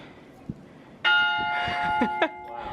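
A bell rings out clearly, striking twice with a long ringing tone between strikes, over faint background chatter.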